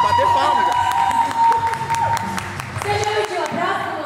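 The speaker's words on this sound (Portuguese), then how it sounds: "Tem que bater palmas!" Several people clapping in a casual group setting, with scattered claps and lively voices and shouts over the applause throughout.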